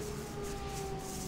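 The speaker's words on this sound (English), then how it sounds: "Ambulance." A brief, steady electronic ambulance siren tone in the game Driver: San Francisco sounds continuously at moderate volume, with no voices.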